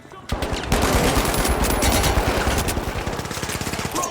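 Automatic gunfire from a video game weapon rattles out in a rapid, sustained burst after a brief quiet start. It stays loud and close, with a dense rhythm of shots running to the end.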